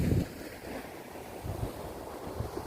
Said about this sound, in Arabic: فدي بتصد البحر، بتخلي الموج يرجع لورا.